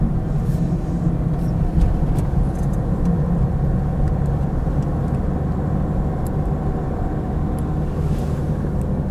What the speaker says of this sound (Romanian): Cred că vine mașina din față.